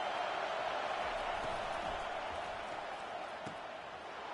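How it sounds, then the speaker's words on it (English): Football stadium crowd at a Bulldogs game swells into a broad, sustained roar as fans try to help their defense, a steady wash of noise heard at a distance. "It is getting loud as this crowd tries to help its defense."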